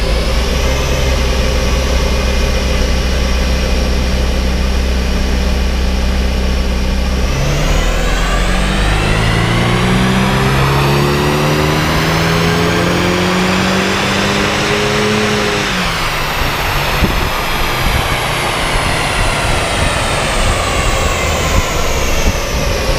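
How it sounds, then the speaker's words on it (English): An RS275 car engine, tuned with a Motec upgrade, runs on a dyno, droning steadily at first, then revving in a long rising sweep to a loud high-pitched peak before dropping back to a rough, roaring idle. "we're just going to give this a run on the dyno just so you can see the power it makes as it makes it"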